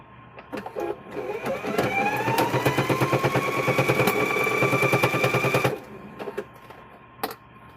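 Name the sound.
sewing machine stitching fabric for door stops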